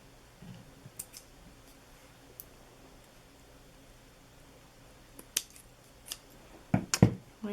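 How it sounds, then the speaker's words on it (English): Scissors trimming Dollar Tree squiggle branches for snowflake holiday decor, a few scattered sharp snips, faint at first and then louder and quicker near the end, with no talk. "I'm just going to trim them so that they don't look weird."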